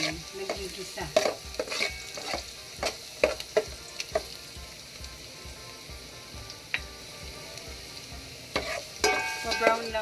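A generous amount of chopped garlic sizzles and fries in a pan while being stirred for a creamy Kapampangan sopas, with a steady crackle broken by sharp scraping stirs.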